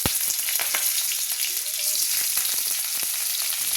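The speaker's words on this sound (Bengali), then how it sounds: "একই তেলে আলুগুলো ভেজে নেব।" Potatoes frying in hot oil in a wok give a steady, loud, close sizzle with scattered sharp crackles and pops throughout. No one speaks.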